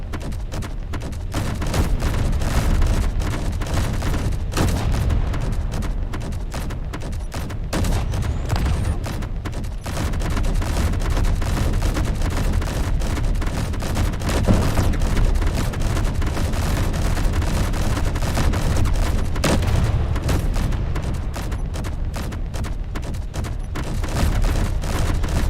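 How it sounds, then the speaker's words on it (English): Heavy cannon fire in the video game Space Engineers, a dense, continuous barrage of booming shots and explosions loud throughout, with brief lulls between volleys. "Stop shooting me, you stupid cannon!"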